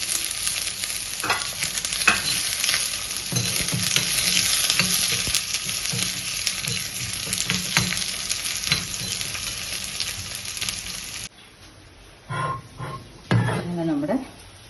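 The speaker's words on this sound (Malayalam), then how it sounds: "ഇപ്പോൾ നമ്മൾ ചെറിയ ഉള്ളി നന്നായി വറുത്ത് വെക്കാം" Shallots (small onions) sizzle loudly in a hot pan for a Kerala-style dried prawn curry, with scraping strokes of stirring throughout; the frying quiets near the end as a voice briefly speaks.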